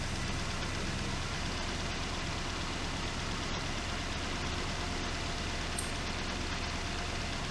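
A 1971 Triumph Stag engine idles on Stromberg carburettors at a baseline setting, a steady, dense, close rumble with a continuous noisy roar and no talk.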